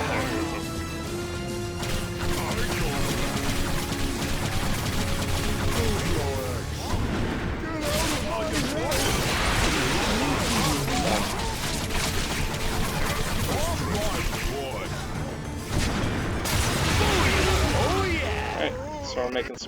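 Acid bombs bursting in Orcs Must Die, repeated smashing crashes and booms over busy battle noise and game music, with a player narrating steadily throughout.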